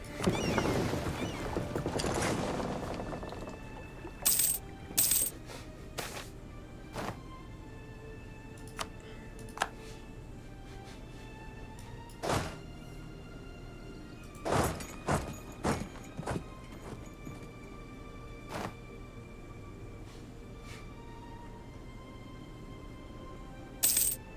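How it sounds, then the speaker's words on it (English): Scattered short clinks of video game coins leaving a treasury, bright metallic jingles popping up irregularly, sometimes in quick clusters, after a louder rustling opening and amid quiet pauses. "you probably heard some coins from some decisions I've made. Coins leaving my treasury."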